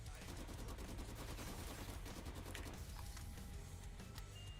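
Sustained automatic gunfire from an RPK machine gun in Black Ops 3 Zombies, a dense rapid stream of loud shots carrying on throughout with game effects layered over it.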